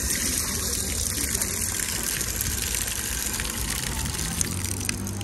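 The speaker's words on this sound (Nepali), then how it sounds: "पानी आयो" Water gushing out in a continuous loud rush, steady throughout and close by, with no voices over it.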